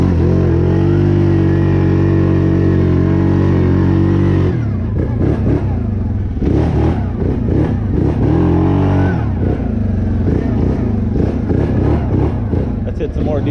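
A Yamaha Grizzly ATV in four-wheel drive ploughs through deep snow, its engine droning loud and close, steady at first, then revving and surging in uneven bursts as it pushes through.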